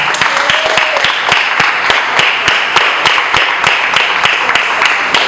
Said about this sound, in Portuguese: Aplauda nas portas